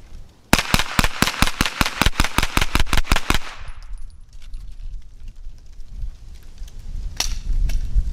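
A JP GMR-15 AR-platform rifle fires a rapid string of about fifteen loud, evenly spaced shots, then stops; the cracks echo off into quieter outdoor ambience, with a single distant report later.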